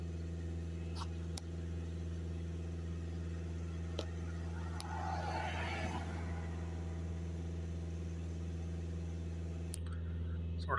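The 2.0 TDI diesel engine of a Skoda Octavia is held at raised revs during a particle filter regeneration, giving a steady, even drone with a constant tone and a few faint clicks.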